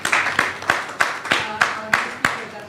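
Scattered claps from a seminar audience at a World Environment Day event, a steady run of about eight or nine distinct hand claps at an even pace, fairly close and moderate in level, with no voices over them.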